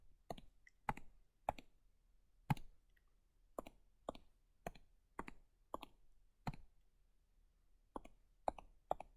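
Key presses on a graphing calculator keypad while entering a polynomial, a dozen or so sharp, close plastic clicks at an uneven typing rhythm in a quiet room.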